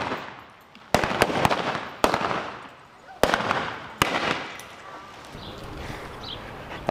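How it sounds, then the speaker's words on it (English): Gunfight reenactment in a western-style town: several sharp, loud gunshots crack out irregularly over a few seconds, each trailing a short echo, then fading into faint background ambience. "and there's gunfights"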